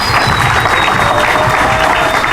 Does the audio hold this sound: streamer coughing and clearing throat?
no